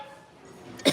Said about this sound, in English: makes me cough